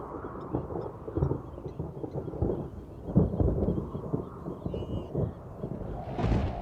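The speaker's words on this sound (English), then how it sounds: "I can also see the first storms approaching." Deep, rolling thunder from storms approaching over the Luangwa Valley rumbles steadily and at a distance, with low, rumbling swells and a gusty, wind-like background.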